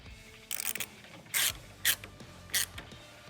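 A nut on a Harley-Davidson Milwaukee-Eight oil cooler fan mount being tightened with a 7/16 inch wrench: four short, close metallic ratcheting bursts separated by quiet gaps.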